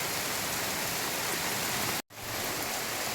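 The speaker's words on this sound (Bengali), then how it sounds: "প্রচুর বৃষ্টি হচ্ছে" Heavy, constant rain roaring on surfaces, a thick even hiss with a brief dropout partway through before the downpour resumes.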